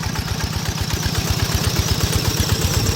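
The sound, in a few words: small rice-field tractor engine running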